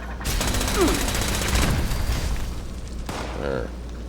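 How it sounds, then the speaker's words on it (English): Fireworks going off in Fallout 76, a dense crackling barrage of bursts and booms that runs loud through most of the stretch, with a low rumble beneath and a short whistling streak early on. "That's the fireworks."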